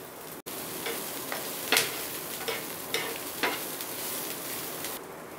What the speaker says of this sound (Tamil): நல்லா வதக்கிக்கலாம்.